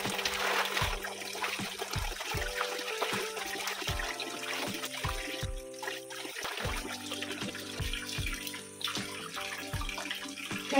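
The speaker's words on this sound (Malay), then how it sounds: "Jom kita cuci dulu daun pandan ni." Pandan leaves being washed under a running kitchen tap, with a steady stream of water splashing and trickling over the leaves, close and fairly loud throughout, with faint background music underneath.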